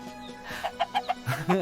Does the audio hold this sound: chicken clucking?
yes